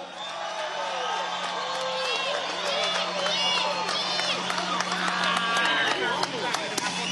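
A concert crowd applauds and cheers steadily through the whole stretch, with scattered whistles and shouts rising above the continuous clapping.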